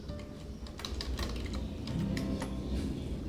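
Someone types a password on a computer keyboard running Ubuntu: quick, irregular key clicks, close and clear, with a few louder strokes in bursts and no voices.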